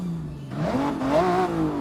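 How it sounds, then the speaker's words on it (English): A turbocharged rally car engine in Forza Horizon 6 revs up from a low idle, its pitch climbing and wavering in one short, loud burst with no talk over it. "Turbo rally engine, of course."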